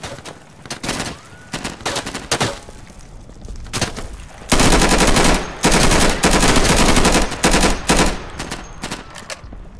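Bursts of M16 rifle fire in the tactical shooter Insurgency, loud and close, with scattered shots early on, then long sustained automatic volleys in the second half.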